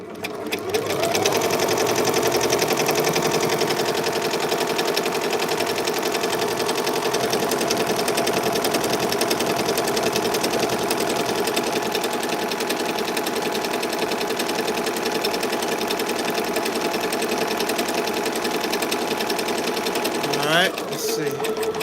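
A Ricoma EM-1010 embroidery machine stitches with a steady, loud mechanical whir and rapid needle chatter, running without pause for about twenty seconds before a brief shift near the end.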